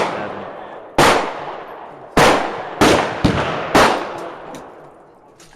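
Five sharp, loud pistol shots from a Glock 27 fired at a range with a Glock 23 magazine, spaced irregularly about a second apart, each with a short ringing decay.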